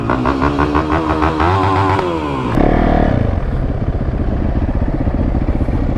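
A supermoto motorcycle fitted with a brand-new spark plug runs close by, its engine revving and climbing in pitch before settling into a steady, loud, rattling idle, with no talk over it.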